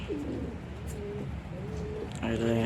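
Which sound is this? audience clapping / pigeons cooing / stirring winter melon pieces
pigeons cooing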